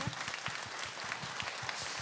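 An audience at a talk concert claps steadily, a dense, even burst of many hands applauding with no voices over it.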